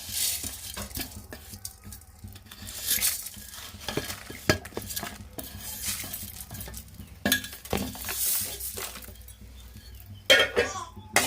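Peanuts, coriander seeds and roasted gram are dry-roasted in a hot pan, giving repeated scraping, stirring and light clinking of a utensil against the metal, with quiet background chatter throughout.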